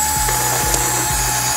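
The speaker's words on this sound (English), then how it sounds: "a bunch of holes need to be drilled into this here plunger with this here drill bit thingy" A drill bores holes into a plunger, giving a steady run of ratchety clicking bursts that repeat about every half second, close and fairly loud with no talking.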